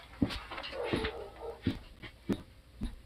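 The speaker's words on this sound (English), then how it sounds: "Fucking dog." A dog whimpers and yips close by in a series of five or six short, sharp bursts spaced roughly evenly. Faint whining and breathy sounds fill the gaps between them.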